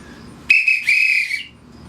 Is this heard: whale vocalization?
no